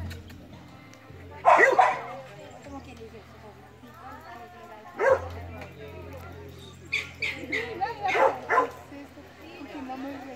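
A dog at an outdoor anniversary gathering gives a couple of sharp barks and a later cluster of yips amid a low background hum and nearby chatter.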